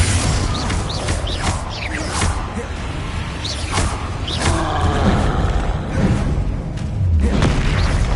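An explosive Confringo spell cast in a video game: dense, booming blasts and whooshing bursts, repeated over a loud mix of game effects, creaks and mechanical noise.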